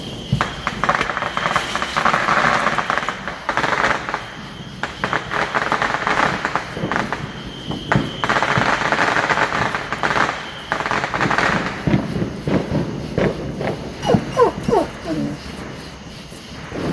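Fireworks being set off outdoors at night during a Fourth of July weekend, with repeated bursts and crackles, some distant and some closer, over steady background noise and occasional voices.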